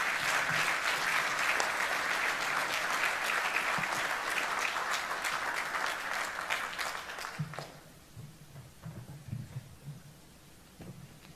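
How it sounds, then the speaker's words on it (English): An audience gives a long round of applause for Lieutenant General Simon Stuart, Australian Army chief, after his speech; clapping stays dense and loud, then thins to scattered claps and fades. "Please give General Stuart a big round of applause."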